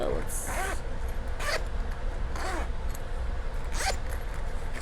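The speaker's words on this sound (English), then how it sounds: "Here's a zipper," Zipper on a travel makeup case pulled in several quick rasping strokes, four or five bursts spaced about a second apart over steady low room noise, close and clear.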